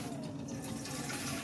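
Tap water running in a kitchen while making bruschetta, a steady rushing splash that fills the short moment without pause, with no talk.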